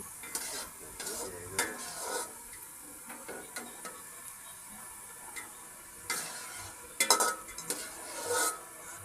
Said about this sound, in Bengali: এরপর এই তেলের মধ্যেই আমি কিছু গোটা গরম মশলা অ্যাড করে দিলাম